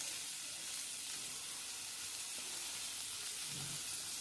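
Sliced onions frying in a little oil in a pan, giving a soft, continuous sizzling hiss heard close and alone, with a faint low bump near the end and no speech.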